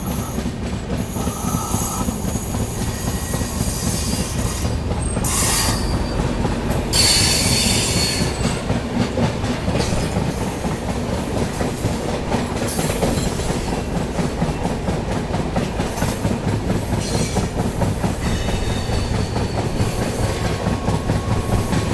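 The 22412 Arunachal AC Superfast runs non-stop through Mansi junction station in heavy monsoon rain, with a continuous loud roar of wheels on rails, rhythmic clickety-clack and intermittent squealing throughout, no voices.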